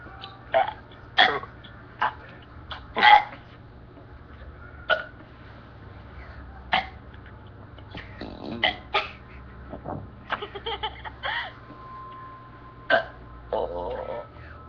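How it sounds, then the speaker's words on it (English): A person burps many times in a row, a series of short, irregular, close-up belches and throaty gulps spaced unevenly, some louder than others, with no talking. "now we shall do multiple burpings at one time"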